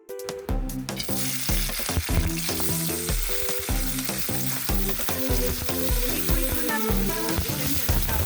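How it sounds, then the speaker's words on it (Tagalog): Chili peppers sizzle and crackle steadily in a hot pan of oil, a loud, continuous frying sound with occasional stirring and no talking, while music plays in the background. "At ngayon naman po ay lulutuin natin yung ating sili."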